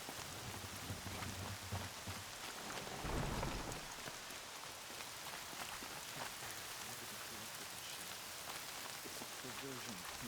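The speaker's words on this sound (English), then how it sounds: "More rain. My boots will get damp." Steady rain patters on surfaces in a video game, with a low thunder rumble about three seconds in, heard alone at a fairly quiet level throughout.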